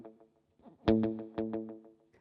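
Electric guitar notes played through an out-of-time multi-head echo effect, a few picked notes repeating in smeared, staggered echoes, fairly quiet and alone.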